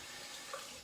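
Tap water running steadily as a shaving brush is wetted under a faucet, a faint, even splash that lasts under a second with no talk.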